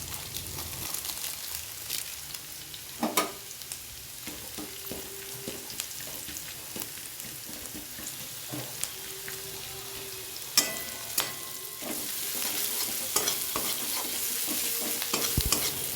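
Chopped onions frying in oil with a bay leaf, cardamom, cloves and cinnamon, a continuous soft sizzle broken by sharp spoon clinks against the pan and occasional stirring scrapes.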